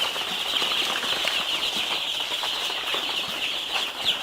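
Day-old broiler chicks stirred up inside a brooding house, a dense continuous chorus of high peeping from many birds, with soft rustling underneath and no voices.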